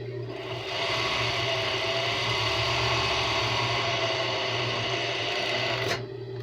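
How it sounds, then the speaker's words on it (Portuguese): An overlock sewing machine stitches closed a seam on a strappy ruffled dress, a steady close-up whirring rasp that runs for several seconds before stopping abruptly. "vou passar overlock, fechando"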